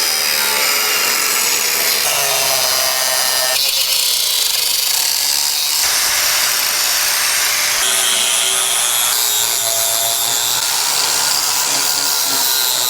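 A power tool grinds and cuts a clearance notch in an intercooler shroud for a 200TDI Series Land Rover, loud, harsh and continuous, with the pitch shifting as the blade bites and eases through the metal.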